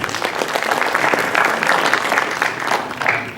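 Audience applause fills a hall at an Urdu poetry mushaira, Jashne Ghalib 2025 at the Ghalib Institute in New Delhi, a dense, steady roar of many hands clapping close by without a break.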